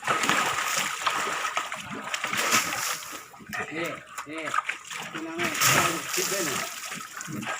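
A baby elephant splashes water in a small basin, with irregular sloshing bursts and splatters, while someone talks over it through most of the clip.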